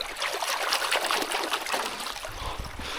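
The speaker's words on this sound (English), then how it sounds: "Wash my hands in this beautiful cool water." Splashing and trickling of hands being washed in a clear, cold high-altitude mountain stream in the Victorian High Country, a steady close wet rush filling the whole clip with no talk.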